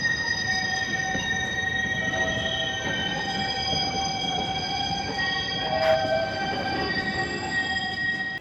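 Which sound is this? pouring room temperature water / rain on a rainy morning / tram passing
tram passing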